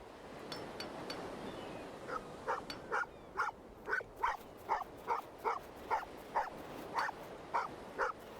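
A dog in an adventure video game barks repeatedly in a steady, evenly spaced series of sharp woofs, fairly close and clear over a low background hiss.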